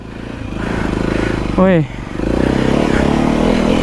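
A Honda CRF 300 dirt bike thrums along with a steady, pulsing single-cylinder engine note, fairly close and loud, while a voice briefly calls out over it mid-ride.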